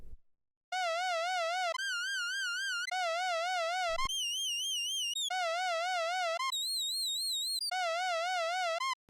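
Pure electronic reference tones from a VSX E.C.C.O calibration sequence play alone, each warbling steadily for about a second before jumping to a higher or lower pitch, evenly loud with short gaps of silence.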